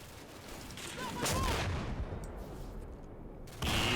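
An AT-13 anti-tank missile fires and slams into the dirt in Combat Mission: Black Sea, a loud launch blast with a sustained rumbling roar, followed by another burst near the end.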